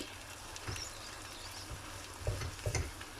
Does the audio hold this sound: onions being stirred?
yes